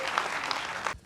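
A short burst of crowd clapping at a political gathering, a dense patter of hands for about a second before cutting off abruptly.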